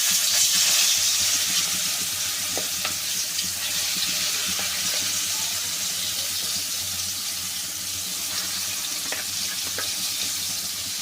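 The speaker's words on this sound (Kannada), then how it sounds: "ಈಗ ನೋಡಿ ಎಣ್ಣೆ ಕಾದಿದೆ ಈಗ ರುಬ್ಬಿರೋ ಖಾರ ಹಾಕ್ತೀನಿ" Ground red chili paste frying in hot oil, a loud, even hiss that holds steady throughout with a few faint scrapes and clicks underneath and no talking.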